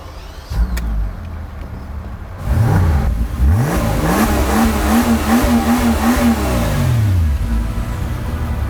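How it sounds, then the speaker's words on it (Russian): A Mercedes-Maybach G-Class Landaulet engine cranks and catches after a short pause, then revs up and down in several close, loud sweeps before settling back toward idle. "я забрался сюда не для того, чтобы любоваться обычной торпедой Геленвагена, а для того, чтобы завести эту крошку"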